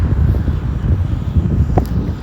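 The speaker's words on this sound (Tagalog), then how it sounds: "mahangin na mainit" Low, rumbling hot wind in Dubai buffets the microphone steadily throughout, with a brief click near the end and no speech.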